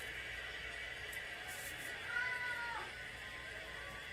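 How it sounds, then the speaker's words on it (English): Faint cat meows come through a quiet background hum, with one clearer drawn-out meow near the middle. "it sounds like we've got a cat on the field."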